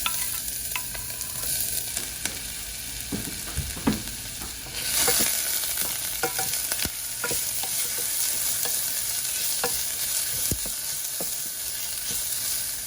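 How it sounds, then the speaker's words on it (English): Onions and carrots frying in a pan make a steady close sizzle, broken by scraping stirs and a few knocks of the utensil, with no talking. "the first thing we are going to put in is the onions and the carrots."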